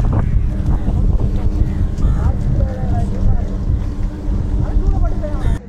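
Boats run on the water during a boat race near Palaly in Jaffna, with a steady motor and wind rumble, brief whining tones and crowd or voices mixed in throughout.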